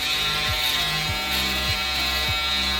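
An electric shaver buzzes steadily while cutting hair on a face, close and loud, its pitch dipping briefly in a regular rhythm about every half second as it is pressed and drawn along.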